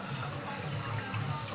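An aquarium being filled with water for treating a sick koi, heard as a steady, dense rushing and splashing of running water. A faint voice is present under it.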